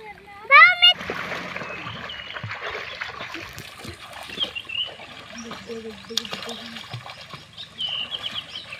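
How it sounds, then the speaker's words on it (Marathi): Children swim and splash in a river roughly 15 to 20 feet deep on a summer day, with light intermittent splashing and dribbling water under steady nearby chatter and a child's high call. "जवळजवळ 15 ते 20 फूट खोल पाण्यामध्ये पोहत आहेत."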